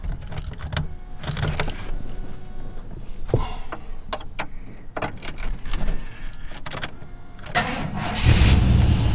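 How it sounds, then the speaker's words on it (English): Inside a 1998 Chevy C/K 1500 truck with 167,354 miles, clicks and a series of electronic warning chimes come first, then the engine cranks and rumbles to life loudly at the end. "We're going to go ahead and turn on the vehicle, check our pressure and our level as well."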